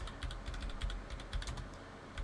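Rapid typing on a computer keyboard, a quick irregular run of crisp clicking keystrokes heard close up and alone, with brief pauses between bursts.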